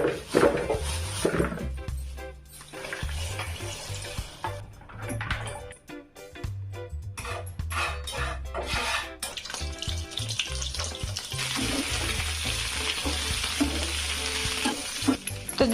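Small eggplants stir-fried in a pan for a sabzi, with steady close sizzling, repeated scraping and stirring of a spatula against the pan, and occasional clinks of metal cookware.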